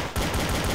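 A single sharp gunshot in Garry's Mod DarkRP, loud and close, with a brief rumbling tail.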